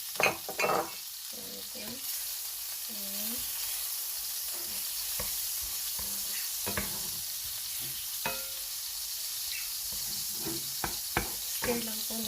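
Two tablespoons of butter sizzle and melt in a preheated pan while being stirred, with steady frying hiss, scattered scrapes and knocks of the utensil, and a brief spoken word.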